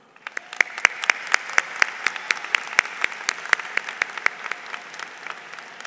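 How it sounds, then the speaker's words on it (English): Applause from a modest audience at a 2022 Northern Virginia Community College commencement ceremony: distinct individual claps, sparse at first, then thickening into a steady, moderately loud patter that starts to thin toward the end. "Please join me in recognizing all the members of our NOVA team with a round of applause."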